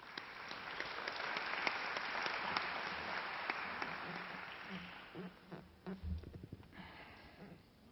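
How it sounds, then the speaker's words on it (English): Audience applause fills a hall at the opening of an economic forum, dense and sustained for several seconds, then thinning into scattered claps and stage noises toward the end. "let's welcome him with a round of applause"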